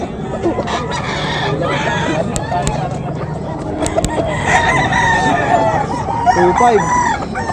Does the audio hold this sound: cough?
no